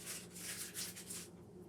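Papery onion skins being peeled by hand, a few quick, faint rustling rubs close by, with no voices.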